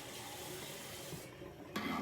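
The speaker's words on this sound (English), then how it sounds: "when you burn your finger, run it under cold water" Cold tap water runs steadily over a burnt finger in a home kitchen. The rush stays close and continuous, then surges louder briefly at the end.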